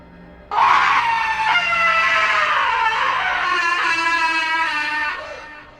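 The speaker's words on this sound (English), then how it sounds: "a third scream came just as suddenly, but this time, it was on our side of the river" A sudden, loud, drawn-out scream rises from nearby bushes on a riverbank, one continuous wailing cry lasting about five seconds with a wavering pitch before it cuts off.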